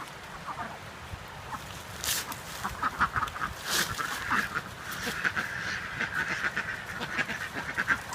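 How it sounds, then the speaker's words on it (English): Egg-laying ducks crowd forward beside a compost pile, their repeated quacks rising in a lively, overlapping chorus close by over a soft outdoor background. "These ducks that are coming to the front, the most aggressive ones, are the ones that are laying eggs right now."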